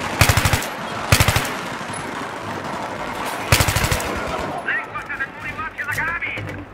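Heavy automatic gunfire in Battlefield 3 rattles out in several short, loud bursts, close and punchy, with battle noise and voices continuing between volleys.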